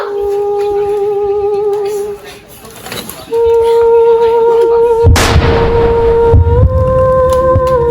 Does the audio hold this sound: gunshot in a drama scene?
yes